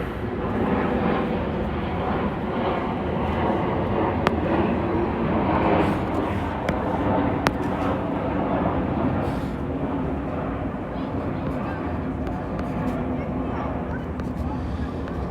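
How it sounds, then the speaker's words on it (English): A fixed-wing airplane passes overhead as a loud, sustained broadband roar that holds steady throughout, heard indoors with no speech. "let me wait for this plane to pass"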